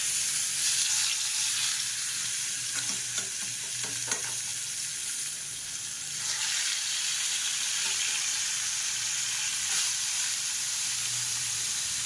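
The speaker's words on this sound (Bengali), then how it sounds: "তো চলো মাছগুলো আগে ভেজে নিই" Fish pieces fry in a hot pan with a steady, close sizzle that holds for the whole stretch, rising slightly near the middle, with no talking.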